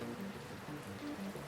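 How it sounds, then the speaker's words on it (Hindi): Heavy rain falls steadily, a soft continuous patter of drops on a surface, fairly quiet and even across the short stretch with no voices. "अचानक आसमान में काले बादल छा गए, तेज बारिश शुरू हो गई।"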